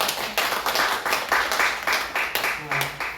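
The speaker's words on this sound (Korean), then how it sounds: "오늘은 좀 격려 박수 해줬으면 좋겠습니다." A church congregation at a Sunday worship service claps together in a steady rhythm, with sharp, evenly spaced bursts about twice a second filling the hall.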